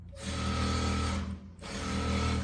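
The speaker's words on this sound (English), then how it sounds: "Then we sew normally all the way down." A sewing machine runs close and steady, stitching a separating jacket zipper onto a skirt, with a brief pause midway before the motor picks up again.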